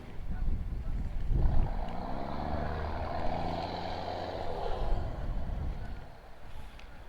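Ferry crossing to Samal Island, a steady low engine drone with wind buffeting the microphone and rushing water, continuous and fairly close.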